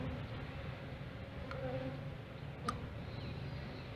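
Honey bees buzz around an open ten-frame hive, a low, steady, fairly quiet drone with a few faint ticks and no talking.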